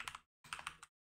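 Code being typed on a computer keyboard, two short bursts of quick, close key clicks separated by a brief pause.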